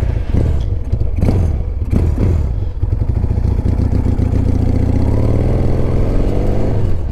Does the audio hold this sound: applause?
no